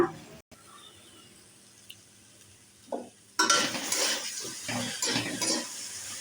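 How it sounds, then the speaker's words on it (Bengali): Mixed vegetables frying with ground spices such as chilli, turmeric, cumin, coriander and mustard paste: quiet at first with a clink, then a burst of loud close sizzling and spoon scraping that continues to the end. "সমস্ত মশলা দিয়ে আমি ভালো করে ভেজে নিচ্ছি।"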